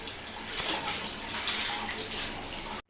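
Clothes are washed by hand under running water, giving a steady, close rush of splashing water that flows without a break and then cuts off abruptly at the end.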